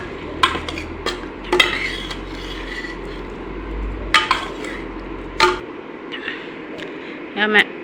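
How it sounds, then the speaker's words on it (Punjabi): A spoon scrapes and clinks against a pot as milk is stirred into a radish and pea curry, with several sharp metallic knocks spaced irregularly over a low background hum that cuts out near the end. "ਦੁੱਧ ਪਾ ਲਿਆ ਆਪਾਂ ਇਹਨੂੰ ਵਧੀਆ ਘੋਲ ਲਾਂਗੇ"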